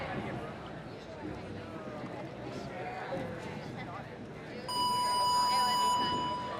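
Under background crowd noise at a women's regional competition, a loud electronic buzzer sounds abruptly near the end, starting the event, and holds a steady, sustained tone.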